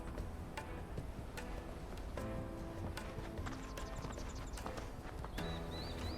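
In Final Fantasy XVI, the hooves of a horse-drawn wagon keep up a quiet, steady clip-clop, with tonal background sounds running along underneath.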